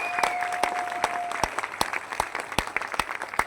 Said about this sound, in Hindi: जोरदार तालियां, अब तक की सबसे जानदार तालियां